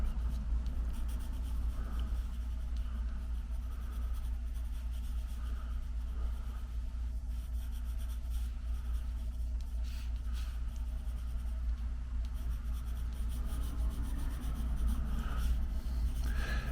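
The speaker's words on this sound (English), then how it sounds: "I'm basically just doing a very rough sketch" Pencil sketching a rough portrait face on watercolor paper, a soft steady scratching of graphite that runs continuously and close, with a low constant background hum underneath and no talking.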